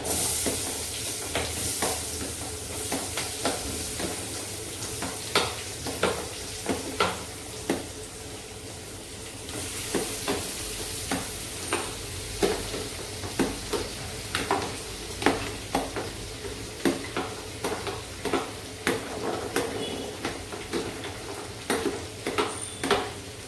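Spinach frying in a pan for palak paneer after red chilli, bay leaves, spices, onion and tomato have gone in. A steady hiss of sizzling runs throughout, with regular clanks and scrapes from stirring, close and loud, and nobody talks.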